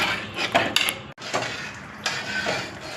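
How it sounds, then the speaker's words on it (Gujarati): A spoon stirs potato curry with buttermilk in a pot, making soft scraping clinks and clatters against the metal in a few irregular bursts, close and fairly quiet. "ત્યારબાદ આ શાકને અમે બરાબર હલાવીશું,"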